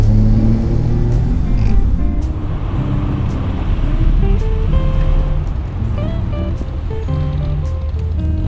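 A 1958 Alfa Romeo Giulietta Sprint Veloce on the road, its engine droning loudly and steadily with low rumble and shifting tones as the car is driven and the revs change.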